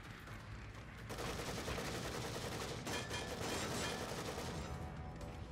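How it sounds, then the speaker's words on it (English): Gunfire crackling from upstairs in The Evil Within survival horror game, a sustained fusillade of overlapping shots that swells after the first second and holds steady, sounding muffled and somewhat distant, with no voices. "I'm hearing shooting from upstairs as well"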